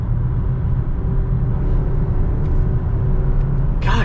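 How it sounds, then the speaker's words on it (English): A 2021 Nissan Rogue SV with a CVT in manual mode drives along, heard from inside the cabin as a steady low engine and road rumble that stays even throughout. "This is the most responsive CVT I've ever driven."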